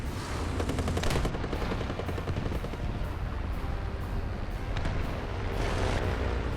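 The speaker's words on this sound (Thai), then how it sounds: "ยิงมันให้หมดยิงหลังป้อมยิงหลังป้อมมัน" Tank machine guns fire in sustained, dense bursts in the War Thunder game, loud and continuous with sharper cracks near the start and again toward the end.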